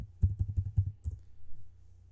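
Quick bursts of keys being typed on a computer keyboard, close and dry: a rapid run of about five taps followed by a couple of slower, softer presses, with no talking.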